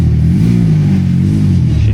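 A six-cylinder car engine, freshly cured of a misfire, revs with a smooth, loud, close growl that holds steady for about two seconds, no voices over it.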